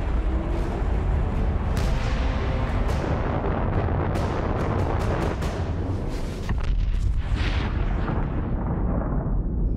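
Nuclear bomb launch and detonation in the video game Fallout 76, a loud, continuous roaring rumble with scattered sharp cracks and booms layered over it, swelling and churning throughout.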